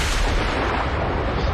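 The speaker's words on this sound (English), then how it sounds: "I don't have an explosion, per se. I've got thunder." A thunder sound effect played in a farming game stream, a loud continuous low rumble filling the whole moment without voices.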